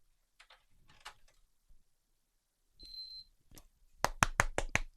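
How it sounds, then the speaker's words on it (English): A computer motherboard with a fault gives a run of about five sharp, loud beeps at power-on, the beeps close together and clearly audible after quieter handling noises. "We got the 3 beeps again, and it doesn't power on."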